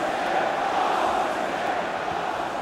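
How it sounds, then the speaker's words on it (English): A stadium crowd in the FIFA 21 video game during a Manchester City versus Manchester United Premier League match: a steady, distant roar of massed fans, fairly quiet and unbroken, with no distinct chants standing out. "Listen to how loud the crowd are, urging their team forward."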